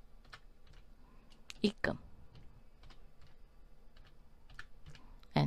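Quick, uneven clicks of typing on a computer keyboard during accounting data entry, close and clear, with a few louder keystrokes and a voice speaking briefly over them.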